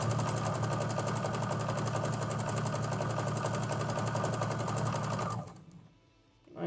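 A sewing machine stitching a strip of fabric with a nearly empty bobbin, a steady fast mechanical whir close by that runs alone for about five seconds before stopping abruptly.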